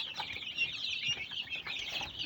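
Hens in a backyard coop cluck softly and repeatedly at close range, a quiet, busy murmur of short calls with no voices.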